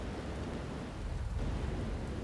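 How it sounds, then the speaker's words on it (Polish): Rain and thunder from a hurricane in The Elder Scrolls Online, a steady, dense wash of rainfall with a low rumbling undertone, fairly faint and continuous with no voices. "w tym huraganie pada deszcz i są jakieś burze z piorunami"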